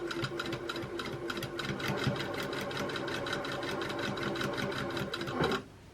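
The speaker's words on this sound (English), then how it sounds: "Now we're going to sew 2 straight lines straight down the middle." A sewing machine runs steadily while stitching two straight lines down satin fabric for an oversized hair bow, a fast even mechanical rattle that holds loud and close for about five seconds, then stops abruptly.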